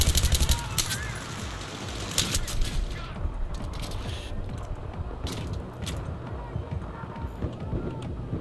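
Gunfire in Battlefield 3, rapid bursts of automatic weapon fire and distant shots crackling through a noisy battlefield, loud at the start and then continuing in scattered bursts.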